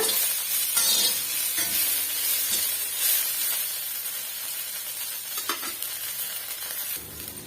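Chicken gravy masala sautéing in a pan gives a steady, close hiss of frying, broken by a few stirring scrapes. No one speaks.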